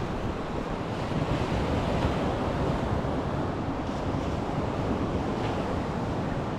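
Sea waves and wind at a seashore make a constant, full-bodied roar of surf with wind buffeting the microphone, steady throughout with no voices.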